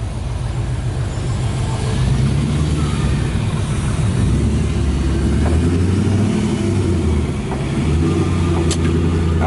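An Audi car pulling away, its engine rumbling steadily and loudly close by, with a low, continuous drone of driving noise throughout.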